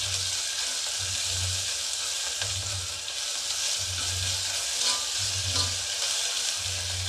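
Ginger garlic paste frying in oil for a bottle gourd curry, a steady bright sizzle throughout with periodic low rumbling pulses, likely stirring, and no talking.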